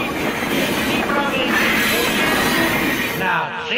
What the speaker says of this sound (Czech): Tokio, hlavní nádraží, osobní vlak na Paříž